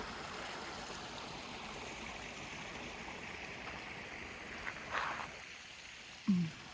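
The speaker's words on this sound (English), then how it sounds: "Here's a little creek along the trail." Soft, steady burble of a small creek running beside a trail in Glacier National Park, fairly faint, with a couple of brief knocks or footsteps toward the end.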